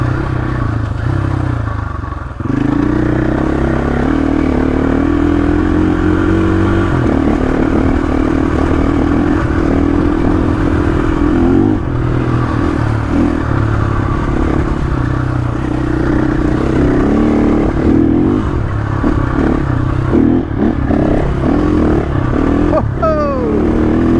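A KTM motorcycle is ridden on a camping trip, its engine droning loud and close, rising and falling with revs, with clattering and scraping from the bike and terrain running throughout.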